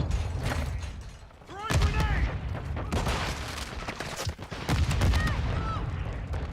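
Gunfire and explosions in the Modern Warfare 2 video game: rapid, loud bursts of shots with booming blasts and whistling, arcing tones packed densely over several seconds.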